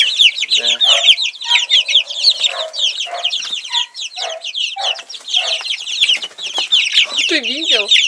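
Several chickens cluck and chatter in a poultry yard, with rapid overlapping calls and a few drawn-out squawks, close and continuous.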